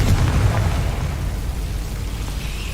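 A Confringo spell explodes in the Hogwarts Legacy game, a loud, heavy blast at the start with a deep rumble that slowly fades over the next few seconds.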